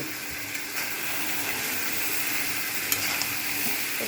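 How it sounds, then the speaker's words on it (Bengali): Potatoes and chicken sautéing in an open pan, a continuous close sizzle and hiss with occasional light stirring scrapes and clicks throughout. "আলুটা দিয়ে ভালো করে আমি কষিয়ে নেব"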